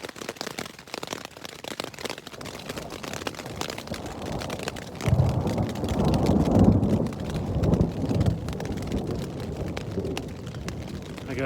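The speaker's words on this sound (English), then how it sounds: "I got a good book and it's raining," Rain hisses steadily in the Uinta highlands, then a loud, close crack and long rumble of thunder breaks in about halfway through and rolls on beneath the downpour.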